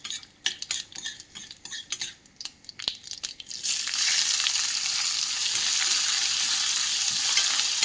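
A spoon clinks and scrapes in a pan, then urad dal and mustard seeds drop into hot oil and break into a loud, steady sizzle that continues to the end.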